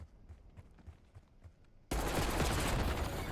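Automatic gunfire in the multiplayer shooter game Call of Duty: Black Ops 6, first as soft spaced shots, then as a sudden loud, dense burst of continuous rapid fire that lasts to the end.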